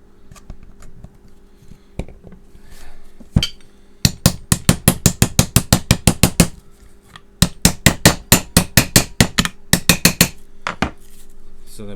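End caps being tapped onto a Hoover Junior Dirtsearcher vacuum brushroll, a fast series of sharp, bright clicking knocks in close rapid bursts with brief pauses between them and no talk.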